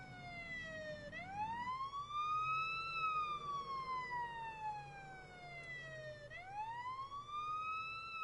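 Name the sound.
ambulance siren in a video game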